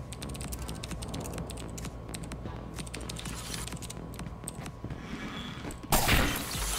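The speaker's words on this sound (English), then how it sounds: "Oh, he's typing." Rapid clicking of a computer keyboard being typed on, dense irregular keystrokes at moderate volume over a background hum, ending in a sudden loud crash-like burst near the end.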